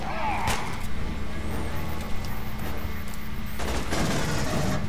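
Rapid gunfire in the Aliens: Colonial Marines co-op game, a dense rattling barrage with sharp bursts over a constant mechanical rumble, growing heavier toward the end.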